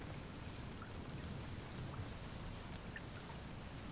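Steady, dense rainfall with low rolling thunder in the western film Old Henry, a constant wash of noise that stays even and close throughout with no voices.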